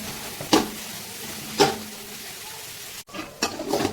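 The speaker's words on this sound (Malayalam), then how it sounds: "ഇത് നന്നായി പച്ചമണം പോകുന്നത് വരെ നന്നായിട്ടൊന്ന് വഴറ്റിയെടുക്കാം നമുക്ക്" Onions with crushed ginger, garlic and green chilli sauté in a pan for vegetable biryani, a soft continuous sizzle punctuated by several sharp scraping stirs spaced about a second apart.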